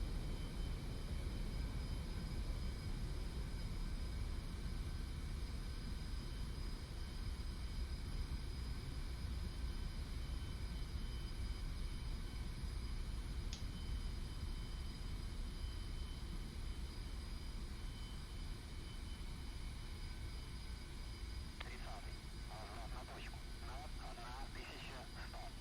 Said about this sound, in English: Got another guy taking off over us here.